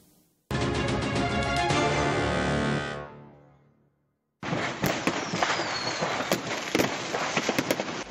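Fireworks go off unplanned at a pyrotechnics warehouse: a loud sustained roar of launches fades out, then after a brief gap a dense barrage of sharp crackling pops and bangs follows.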